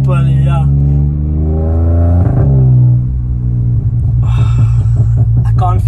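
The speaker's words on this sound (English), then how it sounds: "This car has been fitted with a downpipe and also obviously a bigger exhaust" Loud, close revving of a VW Polo TSI at stage one tune, fitted with a downpipe and a bigger exhaust, its rising and falling engine note sweeping up and down, with a burst of crackle near the end.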